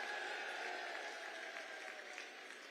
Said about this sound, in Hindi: जोर से ताली बजाओ सैनी जी के लिए।